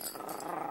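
A brief, low rumbling growl from a small Yorkshire Terrier, close by and continuous for under a second, with no talking.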